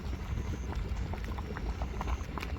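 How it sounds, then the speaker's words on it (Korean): A pot of samgyetang, Korean chicken soup, bubbles and burbles at a steady simmer, with soft popping bursts under a low background hum. "삼계탕 백숙도 빠글빠글 뽀글뽀글 끓고 있습니다"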